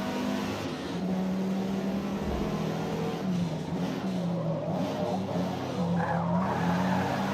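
A car skids under the e-brake in the Forza Motorsport racing game, a sustained tire squeal sliding over a steady engine drone for several seconds, loud and continuous without any talk.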